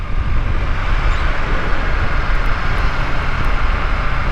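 Loud, steady roar of an airplane coming in to land, heard during a motorbike ride in India, blended with constant wind and engine rumble and no talking.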